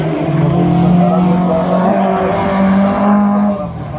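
Rallycross race car in a class 4 heat at Bollnäs, engine note dropping steadily as the driver brakes hard into a corner, loud and continuous with a fading tail near the end.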